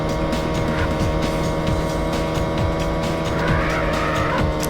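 A car in a Need for Speed racing game holds a continuous engine drone with a long tire screech from a handbrake skid, loud and steady throughout, with no voices.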